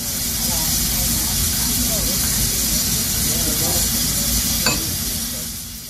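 A steam locomotive at a railway autumn gala vents a loud, continuous hiss of steam that fills the whole stretch, with someone talking faintly underneath.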